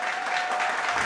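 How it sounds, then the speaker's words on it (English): A large audience at the British Bangladeshi Who's Who 2023 awards ceremony bursts into dense, continuous applause for an award winner, steady and full throughout. "A huge round of applause, please"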